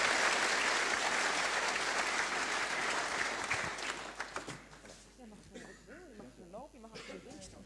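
Warm applause at the Noordhofprijs 2012 ceremony at Eindhoven University of Technology greets a laureate, a dense steady clapping that fades after about four seconds into scattered claps and then a speaking voice.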